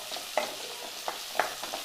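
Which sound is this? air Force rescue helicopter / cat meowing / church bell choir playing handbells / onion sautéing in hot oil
onion sautéing in hot oil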